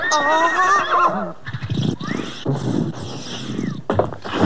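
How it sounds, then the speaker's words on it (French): A loud, close horse whinny rises and falls, followed by stamping, snorting and general commotion of several horses. "Escadron, arrêtez les chevaux!"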